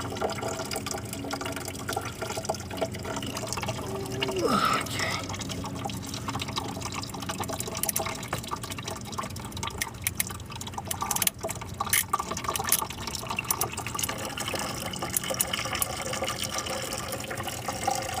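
Engine coolant drains from a Ford Focus in a steady stream, pouring and splashing into a container for a long stretch, continuous and moderately loud, with no voices.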